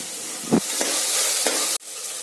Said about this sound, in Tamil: தக்காளி நல்லா மத்திய வதங்கணும் நான் வதக்கிட்டு காமிக்கிறேன்